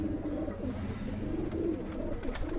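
Pigeons cooing at a loft, low soft repeated coos over a constant background hum, close and moderate in level, with several birds overlapping.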